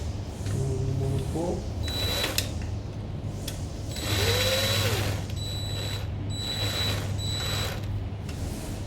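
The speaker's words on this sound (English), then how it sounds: "I'm gonna get a drill." A power drill runs in short bursts on bolts under a 2003 Range Rover during a transmission fluid and filter change, whirring up and down close by over a steady low hum, with brief pauses between runs.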